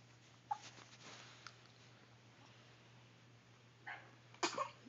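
A three-day-old newborn baby sneezes once, a short, faint burst near the end, after a few soft breathy sounds in a quiet room.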